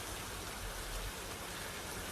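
Steady rain falling in a software scene, a dense, even hiss with low rumble that carries on without pause, loud and alone.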